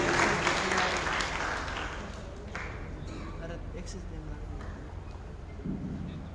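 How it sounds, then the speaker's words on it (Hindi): A crowd applauds at a school award ceremony honouring students at Tagore School in Taranagar. The clapping is loud at first, then thins and fades under a speaker's voice. "जोरदार तालियां उनके लिए।"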